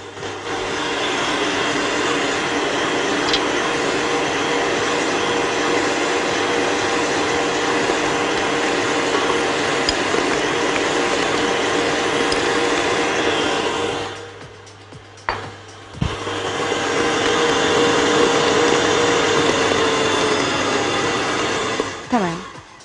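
An electric hand mixer whirs steadily for about fourteen seconds as it beats pomegranate cake batter, cuts out briefly, then runs again with the same loud, continuous drone.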